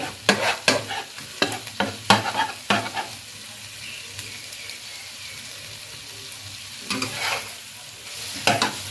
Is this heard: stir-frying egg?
yes